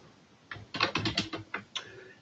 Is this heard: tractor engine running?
no